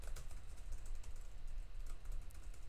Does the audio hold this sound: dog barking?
no